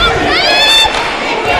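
A gymnasium crowd at a GCAC 2019 men's championship basketball game between Tougaloo and Edward Waters sends up a loud, steady roar of many voices, with shouts and cheers running through the whole stretch.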